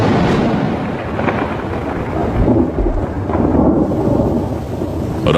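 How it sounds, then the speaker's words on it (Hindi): Thunderstorm with heavy rain in Kakadu, Australia: a steady, loud wash of rainfall with deep rolling thunder swelling through it, continuous and close, with no voices. "आसमान में काले बादल दिखाई देने लगे हैं। बरसात आ चुकी है।"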